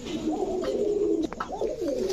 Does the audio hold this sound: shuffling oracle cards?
no